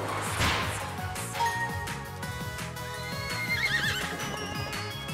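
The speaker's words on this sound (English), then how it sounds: "Oh wait, a horse! Mounted attack." Horse neighing in the Miitopia game, a loud whinny near the start followed by rhythmic clip-clop hoofbeats, game music and jingling chimes playing throughout.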